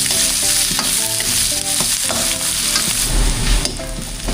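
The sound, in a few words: sautéing garlic, onion and ginger in oil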